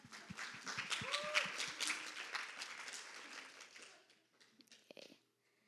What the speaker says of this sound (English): a round of applause for Erica